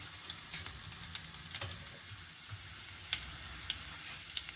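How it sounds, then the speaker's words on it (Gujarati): Cumin seeds sizzling in hot oil with garlic and curry leaves in a home kitchen, a steady close crackling hiss dotted with sharp pops, heard alone with no talk. "જીરું નાખી અને પછી થોડી વાર સતળાવા દેવાનું."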